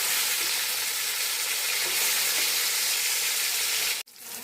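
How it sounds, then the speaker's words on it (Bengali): Fish fry in a pan of oil for a curry, giving a loud, dense, unbroken sizzle that cuts off abruptly near the end. "আমাদের মাছ ভাজা হয়ে গেছে, সেটাকে তুলে নেব।"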